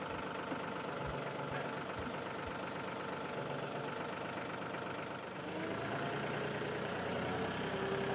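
A tractor engine idles steadily at close range, a continuous rumbling drone with a brief dip partway through before settling back to a slightly deeper, even hum.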